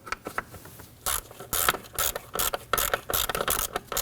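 A ratchet tightening the MAP sensor bolt into the intake manifold of a 2013-2015 Subaru XV Crosstrek 2.0L H4, heard as close, quick bursts of clicking with short pauses between them.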